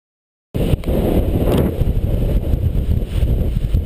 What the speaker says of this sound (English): it sure is windy out here.